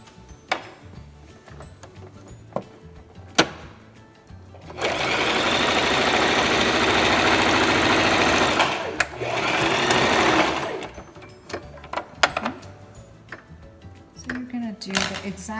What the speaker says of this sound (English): let's take this to the sewing machine and stitch this